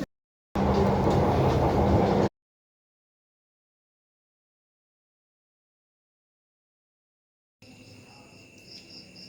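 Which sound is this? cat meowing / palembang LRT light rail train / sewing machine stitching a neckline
palembang LRT light rail train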